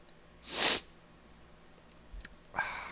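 A single sharp sneeze bursts out loudly near the start, followed by a quieter sniff a couple of seconds later.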